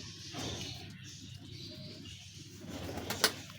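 Ferozpuri pigeons coo softly in the background, low and fairly distant, with a faint rustle of movement and a sharp brief click near the end.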